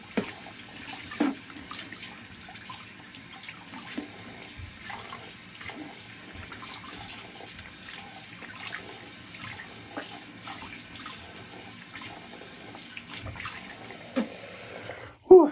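Cold tap water runs from a faucet while alum is rinsed off the face after shaving. The splashing stream is steady and close, with a short burst of voice and movement at the very end.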